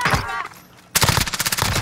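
Rapid automatic gunfire in the shooter game Warzone: a loud, dense burst of fast shots breaks in after a brief quieter moment and keeps rattling to the end.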